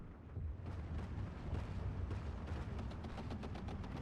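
Machine guns firing in the video game Steel Division 2, Axis campaign at Orsha: a dense, continuous rattle of rapid bursts over a low rumbling battlefield background.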